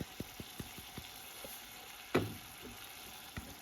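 Onions sautéing in a pan for mac and cheese, a soft steady sizzle with light scraping stir taps and one sharper clatter midway, close and fairly quiet with no talk.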